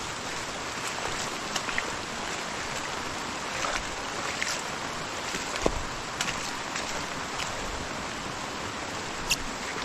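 Steady rain hisses in a dense wash of patter, with occasional sharper drips and taps standing out against the constant noise.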